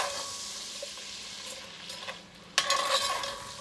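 Shrimp sizzling in a pan for keto jambalaya while being stirred, with a steady frying hiss, soft scraping, and a sharper clatter of utensil against pan near the end.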